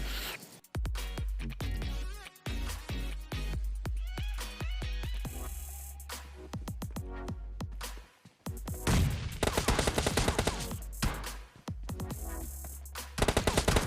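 In a PUBG Mobile Lite match, automatic gunfire rattles in fast bursts of closely spaced shots, loud and near, broken by brief pauses before heavier volleys resume.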